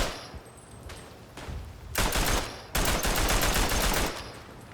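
Rapid automatic gunfire from a Belgian squad weapon in the WW1 video game Verdun, loud bursts of dense fire, a short burst early and then two sustained stretches of rapid shots.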